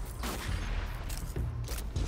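Rapid gunfire from a gun in the video game Destiny 2, a dense run of repeated shots lasting about two seconds, loud and close.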